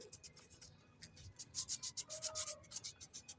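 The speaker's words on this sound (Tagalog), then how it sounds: "Kuha po tayo ng liha, saka po natin linisin ang contact point niya." Quick rhythmic scratching of sandpaper rubbing back and forth on the electrical contact point of a spin dryer's power switch, close and fairly quiet, strokes speeding up.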